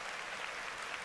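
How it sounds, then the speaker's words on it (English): A crowd claps in a dense, even burst of applause that holds at a steady level for about a second, with no voices over it. "May I have a round of applause?"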